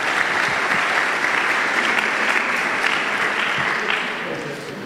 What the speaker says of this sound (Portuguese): Dá um aplauso ao Senhor pelo nosso equipe de teatro aqui.